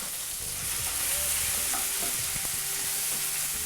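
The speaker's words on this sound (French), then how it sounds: "Je commence à fricasser mes pommes d'amour." Tomatoes fry in hot oil with a loud, continuous hiss and sizzle, close up, with occasional faint stirring scrapes and no voices.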